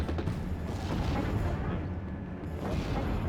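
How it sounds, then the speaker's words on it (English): Off-map artillery pounds the battlefield in the Steel Division war game: a low, rumbling barrage of distant booms and rolling blasts, fairly quiet and continuous, with faint voices mixed in. "I just want to see this artillery. It's the off-map artillery."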